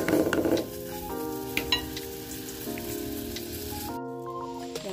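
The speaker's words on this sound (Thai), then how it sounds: "อันนี้เดี๋ยวเรารวนหมูนะคะเพื่อน ๆให้มันสุกดีนะคะ" Pork stir-fries in a pan with a steady close sizzle, while a tonal melody plays over it throughout.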